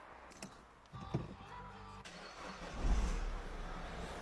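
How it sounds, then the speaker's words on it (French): A car engine cranks and catches after being jump-started with a portable booster pack, starting quickly with a short crank followed by a steady, moderately loud idle close by. "le véhicule démarre au quart de tour avec le booster"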